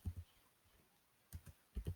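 Typing on a computer keyboard: a few short clusters of soft, dull key taps separated by brief pauses, faint and close, with no voice.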